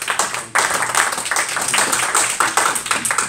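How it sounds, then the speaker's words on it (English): Conference audience clapping for the doctors, a lively round of applause with individual claps distinctly audible, briefly dipping near the start and then continuing steadily and loudly. "Please, another round of applause."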